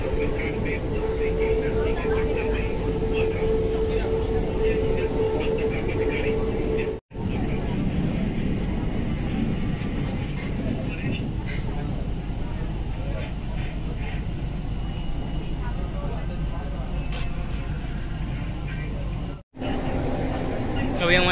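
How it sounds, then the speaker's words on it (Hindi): A Kolkata metro train runs through a tunnel between Salt Lake and Sealdah, a loud, steady low rumble with rushing air, broken by two brief dropouts, and a voice is heard at times. "अभी हमारी ट्रेन टनल के अंदर से निकल रही है"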